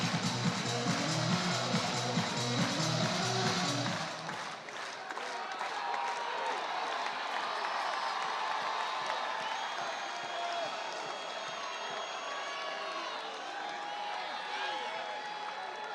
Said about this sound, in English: Record crowd in the building tonight.